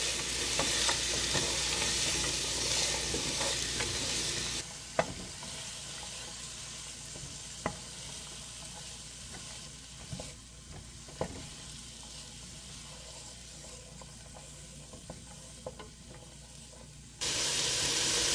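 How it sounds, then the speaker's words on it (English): Onions sizzle steadily in a pan over medium heat, a constant soft hiss with occasional light scrapes and taps as they are stirred, carrying on alone without talk for well over fifteen seconds. "Let's give that a stir. And I'm going to saute these over a medium heat for about 3 minutes until the onions are nice and soft."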